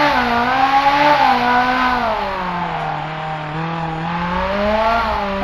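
A Ferrari 458 Italia engine in BeamNG.drive holds a loud, steady drone that climbs and sinks in pitch as the car drives, with no talk over it.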